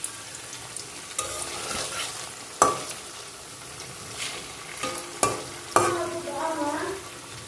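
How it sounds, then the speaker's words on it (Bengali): Paneer frying in hot oil in a kadai, a bright crackling sizzle with several loud clanks and scrapes of a spatula as the pieces are stirred, close by and without speech. "কড়াইতে তেল দিয়ে দিয়েছি, এবার পনিরগুলোকে ভেজে নেব।"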